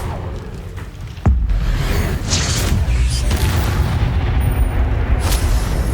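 In Hogwarts Legacy, a Confringo blasting spell goes off with a sudden loud boom and a deep low-end thud that then rolls on into sustained rumbling blast noise, all over dense game ambience.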